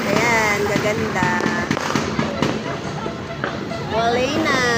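New Year fireworks crackle and pop continuously with whistling streaks rising through the din, loud and close, alongside distant crowd murmur.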